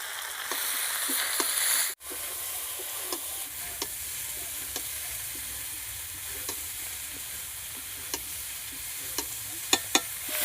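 Chili chicken with soy sauce and chili sauce fries in a pan, a steady soft sizzle broken by occasional sharp scrapes and taps as a spatula stirs, with one brief dropout early on.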